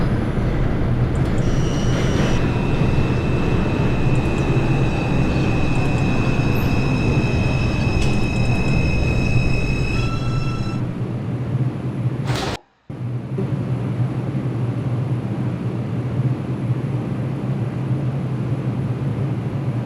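An R142 subway train on the 4 express line runs in the OpenBVE simulator game with a loud, continuous rumble and a steady whine that briefly cuts out, then resumes without any talking.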